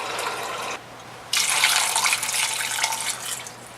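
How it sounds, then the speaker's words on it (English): Tap water running into a cooking pot for vegetable stock, a steady rushing stream that stops briefly, then resumes louder and fuller for a couple of seconds before tapering off. "So let's just go ahead and get this water in and go from there."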